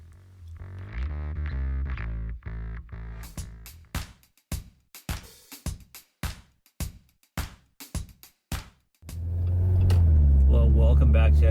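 2020 Jeep Wrangler Recon with the 2.0L turbo and an AFE Mach Force-XP hi-tuck cat-back exhaust: a low idle, then a string of short sharp revs, ending in a loud, sustained deep exhaust drone.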